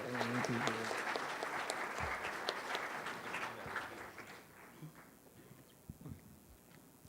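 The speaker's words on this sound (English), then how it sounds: "let's all give him a big round of applause." An audience at a Bala Vihar graduation claps for an absent graduate. The applause starts full, then fades over several seconds into quieter room noise with a few stray knocks.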